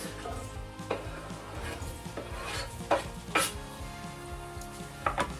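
Onions sizzle steadily in hot olive oil while a utensil stirs and scrapes the pan, with occasional clacks against the metal.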